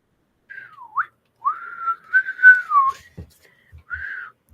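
A woman whistles close to the microphone, several short wavering notes with gliding pitch and small breaks between them, followed by a few soft thumps and handling noises.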